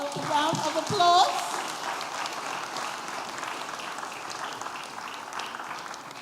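Audience applause for panelists at a World Suicide Prevention Day event: a brief voice at the start, then a sustained, even wash of clapping that holds steady to the end.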